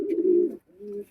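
A Pakistani high flying pigeon gives two close, loud coos, a longer throaty call followed after a short pause by a softer, shorter one.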